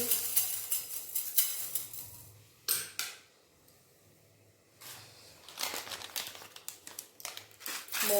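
Dried chillies and black mustard seeds in a dry pan for an Indian gooseberry pickle spice mix, with bursts of close crackling and rattling that pause briefly, then return in uneven rustling waves.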